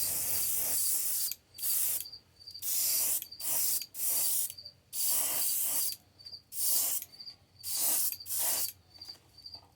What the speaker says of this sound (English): I'll just spray it kind of all on the top